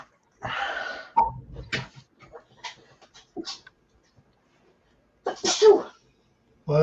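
A single sharp human sneeze, close and fairly loud, breaking into a stretch of casual indoor talk, with brief speech before and after it.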